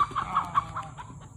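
A hen clucks close by in a short series of four or five evenly spaced clucks that fade slightly toward the end, heard alone without talk.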